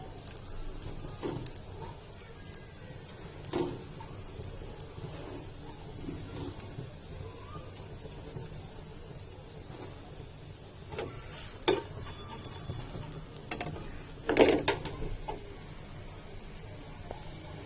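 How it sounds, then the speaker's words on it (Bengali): Onions frying in a little oil in a wok, a low steady sizzle with occasional sharp clinks and scrapes of stirring, fairly quiet and close, with no talking. "আমি এখন এই তেলটুকুতে দুটা পেঁয়াজ দিয়ে দিচ্ছি লাল করার জন্য"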